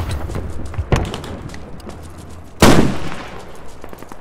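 Gunfire and cannon blasts from the video game Squad as a tank fires on infantry: sharp cracking shots, then one loud booming blast with a lingering rumble, heard close and heavy.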